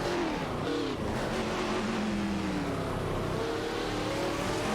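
A Nissan 350Z GT1 and an Alzen Porsche 996 Biturbo race in a video game, their engines roaring loud and continuous with shifting, rising revs, close and dense throughout.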